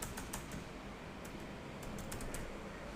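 Typing on a computer keyboard, a steady run of light, quick key clicks with a brief burst of faster strokes, close and clear over low room hum.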